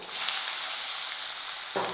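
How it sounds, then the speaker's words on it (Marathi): Mustard seeds, cumin, asafoetida and chopped onion frying in hot oil for a spiced aubergine curry, a loud continuous sizzle close by, with a burst of stirring near the end. "तेल तापलं आहे यामध्ये घालायची मोहरी मोहरी तडतडली आता घालूया जिरं हिंग चिरलेला कांदा"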